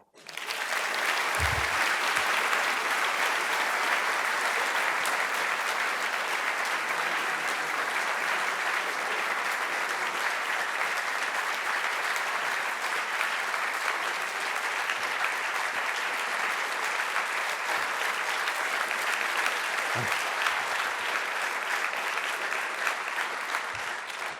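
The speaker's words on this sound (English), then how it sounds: "maybe this applause was premature" Sustained audience applause welcoming Dr. Horst Koehler, former President of Germany, to a lecture on citizenship in a global age, a dense, steady roar of many hands holding loud and even for the full length.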